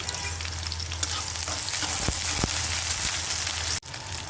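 Garlic and chopped onion fry in hot oil in a wok, giving a steady, dense sizzle with crackling close up, a couple of sharp stirring clicks and a low hum beneath, cut off abruptly near the end.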